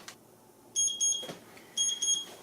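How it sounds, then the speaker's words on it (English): A kitchen timer beeps in two short bursts of rapid electronic tones, marking the end of a three-minute AeroPress coffee brew, fairly faint with quiet pauses between. "There's our timer going off. That's 3 minutes."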